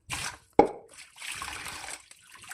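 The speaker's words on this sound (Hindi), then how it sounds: "उसको इसी तरीके से 2-3 पानी से बोलूँगी, ये पानी निकाल दूँगी," Rinse water being drained off washed rice makes a short splash, then a soft trickle and dripping that fades, close by and with no talking.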